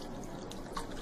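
A little water is poured into a big bowl of yogurt for moong dal dahi vada, giving a soft, close, continuous trickling splash with no voice over it.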